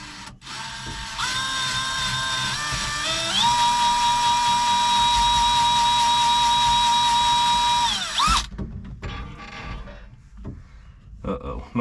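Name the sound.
drill boring through a dozer pedal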